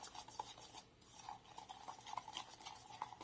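A spoon stirs cream in a bowl, giving soft, faint scraping and rubbing strokes with occasional light clinks against the side, close up and quiet, with no talking.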